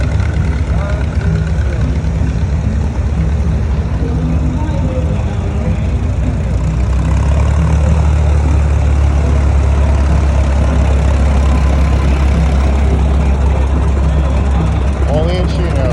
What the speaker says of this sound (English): Tractors.